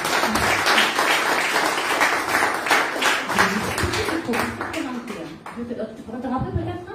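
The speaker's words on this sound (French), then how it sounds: "Donc on l'applaudit bien fort." An audience at a mediumship and clairvoyance event claps, a dense patter of hands that thins out and fades toward the end.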